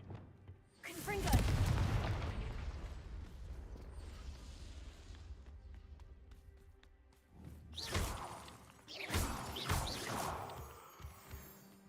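Confringo blasting spell cast in Hogwarts Legacy, a loud burst and crash with rumbling debris, followed a few seconds later by further sharp blasts and clattering impacts, with a voice speaking at times.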